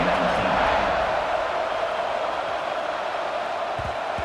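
A stadium crowd at a college football game keeps up a steady, dense buzz of noise at a constant level the whole time, with a commentator speaking over it.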